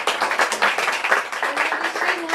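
An audience applauds at a Palestinian diaspora writing event, a dense, steady clapping from a room of people that carries on without a break.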